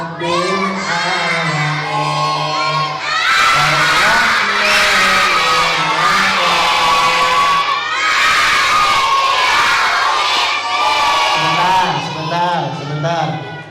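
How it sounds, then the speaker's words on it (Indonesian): A crowd of children shouts and cheers loudly together at a live Islamic children's study session, sustained excited yelling with voices rising and falling throughout. "Nggak capek emang teriak-teriak?"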